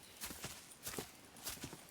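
Horses walking in Red Dead Redemption 2, with a few soft hoof clops in uneven rhythm and no talk.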